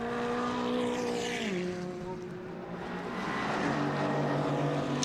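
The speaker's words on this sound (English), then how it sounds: "There's the Alex Stevenson Ginetta G56, the V8 engine car, coming under pressure from the number 25 car" A Ginetta G56 race car with a V8 engine passes on the Oulton Park circuit during a GT Cup pit-stop race, its loud steady engine note shifting down in pitch as it goes by, with other cars roaring close behind.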